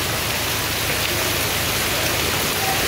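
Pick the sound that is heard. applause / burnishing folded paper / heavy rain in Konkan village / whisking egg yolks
heavy rain in Konkan village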